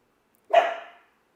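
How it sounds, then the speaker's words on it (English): One short, sharp bark from a young dog, clear and close, in otherwise quiet surroundings. "there was one of our puppies barking."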